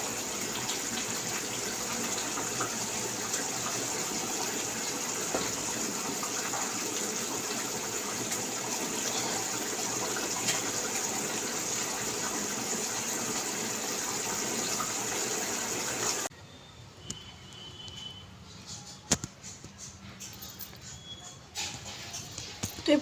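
Running tap water while dishes are washed with Vim liquid, a steady close gushing stream for about sixteen seconds that then cuts off, leaving quiet room tone with faint clinks and small movement sounds.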